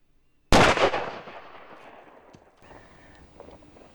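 A single loud, close gunshot from a .375 Dakota rifle firing 300 grain bullets cracks sharply, then rolls away in a long, fading echo across open country.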